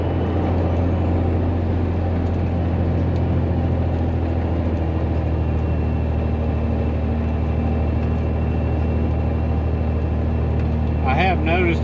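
A 2001 Peterbilt 387 truck pulls uphill in seventh gear with a manual shift hold, its engine droning in a loud, steady low rumble throughout, with a brief higher whine near the end.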